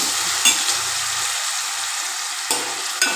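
Ginger garlic paste sizzling in hot oil for a fish curry, a steady broad hiss held throughout with a few sharp spatters and scrapes near the start and end; no one speaks.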